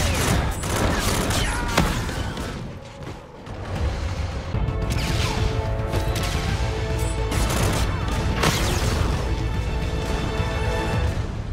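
Rapid bursts of video game gunfire from Infinite Warfare gun game trick shots, dense and continuous with crashing impacts and game effects throughout, loud and close.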